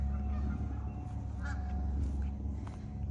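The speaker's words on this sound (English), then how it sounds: "You can hear the geese." Geese honking a few times at a distance on a farm, over a low rumbling outdoor background, faint and intermittent.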